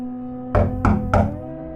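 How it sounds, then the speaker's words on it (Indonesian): Knocking on a house door from the outside: three distinct, evenly spaced knocks, close and fairly loud over a quiet background, with no voices. "Suara ketukan pintu dari arah luar."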